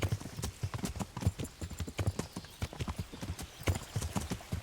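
Horse hooves clip-clop in the medieval game Kingdom Come: Deliverance, a steady brisk trotting rhythm of sharp close knocks repeating throughout, the only sound present.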